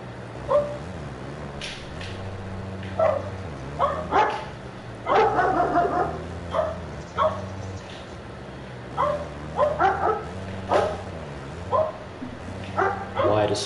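A dog barks in repeated sharp bursts, fairly close and loud, over a steady low hum, with people talking around the barking.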